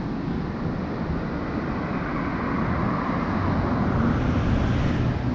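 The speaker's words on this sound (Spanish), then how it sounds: "Y ahí pasan los autos." Cars and pickup trucks passing on a cold mountain road in the Peruvian highlands, heard as a steady broadband traffic rumble and wind-like roar that swells slightly toward the end, with no talk.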